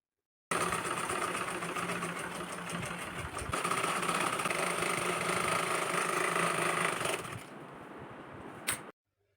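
A sewing machine runs a double seam on palazzo pants in one long, steady mechanical whir, slowing and dropping in loudness near the end before stopping with a brief click.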